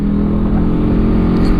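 A motorcycle fitted with a 3Tech Tridente F19 Thunderhawk aftermarket exhaust rumbles steadily and loudly up close, a deep continuous drone with no pauses.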